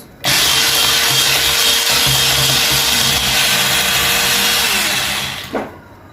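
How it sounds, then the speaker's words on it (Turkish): Oil and milk being mixed into an egg and sugar batter for a German cake, with a loud, steady electric-mixer whir running about five seconds before cutting off, with no talking. "bir çay bardağı sıvı yağımızı, bir çay bardağı sütümüzü de ilave ediyoruz ve tekrardan karıştırıyoruz"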